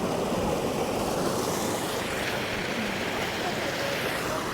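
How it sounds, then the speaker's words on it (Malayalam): Sea waves wash in and draw back along the shore at Salalah, a steady broadband rush with wind noise on the microphone, continuous and fairly close throughout. "വെള്ളം വന്ന് ഇറങ്ങുന്ന നോക്കിയേ."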